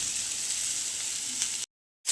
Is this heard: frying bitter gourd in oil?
yes